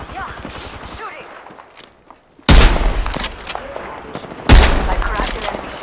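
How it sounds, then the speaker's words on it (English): Video game gunfire in heavy bursts: after a stretch of quieter game sounds and brief talk, two loud rapid volleys of automatic shots crack out close and dominate the mix. "Shooting."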